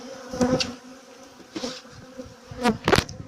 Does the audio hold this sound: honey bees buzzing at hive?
yes